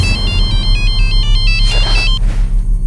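A phone ringtone plays loudly and steadily in a repeating electronic warble over a low hum, with a short burst of background noise near the end.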